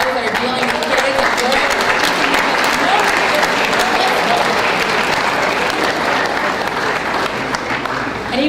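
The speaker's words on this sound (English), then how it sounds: "I want to give a round of applause to those that are dealing" Loud, sustained round of applause from a conference audience at a SkillsUSA district event, dense clapping close and full throughout, with some crowd voices and cheers woven into it.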